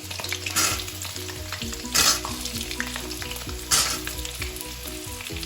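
Mutton pieces fry in hot oil with a loud, continuous sizzle and crackle, while periodic spattering bursts and stirring scrapes rise over the steady frying noise, close up with no voices.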